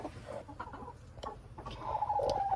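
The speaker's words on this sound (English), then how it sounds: "Golly, I still have a chicken sitting on an egg in here." A hen sitting on an egg in a coop clucks softly in short, scattered calls, close by, over a low background rumble with a few faint knocks.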